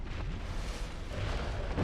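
A Stray Demon boss's explosion attack in Dark Souls Remastered, a dense rumbling blast that roars continuously through the short span without speech.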